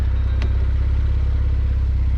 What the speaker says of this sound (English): That was a 3-liter flat 6-cylinder petrol engine that is capable of producing 385 horsepower